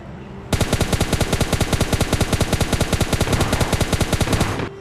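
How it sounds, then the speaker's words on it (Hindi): Rapid automatic gunfire in the mobile game PUBG Mobile Lite, a loud, sustained burst of evenly spaced shots at a fast steady rhythm lasting about four seconds, close and dominant. "तभी कुछ और शॉट्स आते हैं हमारे ऊपर।"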